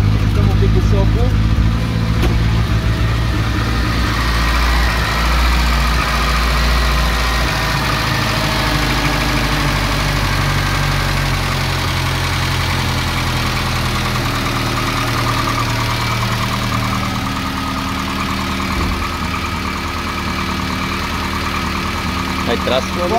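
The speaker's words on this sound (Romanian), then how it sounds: "Foarte frumos merge motorul, având în vedere vârsta" An old ARO 10 engine, just restarted after sitting for two years, idles steadily with a loud, continuous low rumble across the whole stretch, while voices talk over it.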